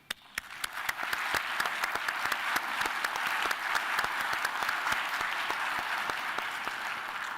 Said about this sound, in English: Both teams deserve a round of applause from all of you.